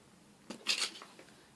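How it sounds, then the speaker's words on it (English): Old metal tweezers scoop cheap scar wax from its tin, giving a few brief close metallic clicks and scrapes, one louder cluster in the middle, otherwise quiet without speech. "Let's get my old tweezers. I'm just going to use these to scoop out some wax."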